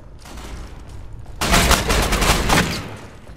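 Rapid automatic gunfire from a 20 MP weapon in the video game Ghost Recon Online erupts suddenly after a quieter stretch, a loud continuous burst of shots that rattles on for about two seconds.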